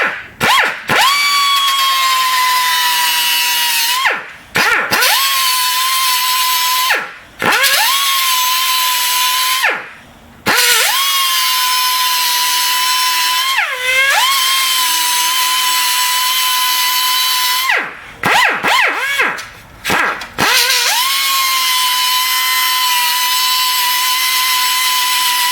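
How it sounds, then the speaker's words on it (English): An extended-reach cutoff wheel cutter from Harbor Freight cuts through metal with a loud, high, steady whine, stopping and restarting about eight times as it bites into the workpiece. "Now I'll take a cutoff wheel to cut this side off because it's a lot easier and cleaner."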